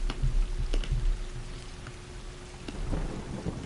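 Continuous rainfall in the video game Stray patters steadily while low thunder rumbles in the background, punctuated by a few sharper drop impacts.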